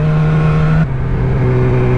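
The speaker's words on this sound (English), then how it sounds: "I'm going to the car meet right now with the new Akrapovic Megaphone exhaust, baby" Sportbike fitted with an Akrapovic Megaphone slip-on exhaust and no mid pipe, revving loud and close with a strong droning engine note that drops in pitch partway through and then holds steady.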